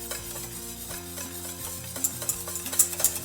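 A whisk beats homemade mayonnaise in a bowl as oil is poured in, rapid rhythmic clicking and scraping close up, with sharper metallic taps near the end, no talking.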